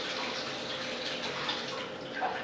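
A full glass of basmati or jasmine rice rinsed under clear running water, a steady close splashing wash with no pauses.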